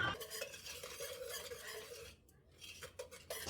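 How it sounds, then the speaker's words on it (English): Whisking dry flour, sugar, salt and cocoa powder in a bowl, a quick rapid scratching and tapping of the whisk against the sides, close and fairly quiet, with a brief pause before the stirring resumes. "We're going to put that in there with our flour, our sugar, and our salt, and we're going to whisk it."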